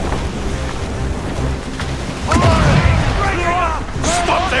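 Ship cannons fire during a naval battle in Assassin's Creed Rogue, a heavy boom rolling over rushing sea and wind, with shouting voices of the crew mixed in.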